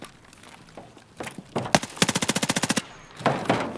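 Video game gunfire: an automatic weapon rattles out a rapid burst of about a dozen evenly spaced shots, with scattered single shots before and a second burst after, loud and close.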